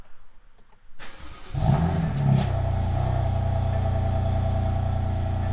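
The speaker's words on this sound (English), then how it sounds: "let me go ahead and start the car up for you" A BMW F80 M3 engine cranks and fires up after a brief click, then settles into a loud, steady idle close by.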